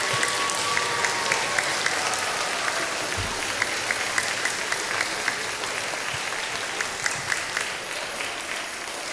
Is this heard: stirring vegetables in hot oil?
no